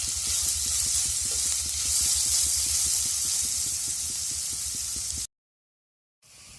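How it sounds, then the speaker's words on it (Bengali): Potato pieces sizzle and hiss steadily in a hot pan while being fried for egg noodles. The frying noise is even and fills the scene before cutting off abruptly. "আলুটাকে আমি একটু ভেজে নেব।"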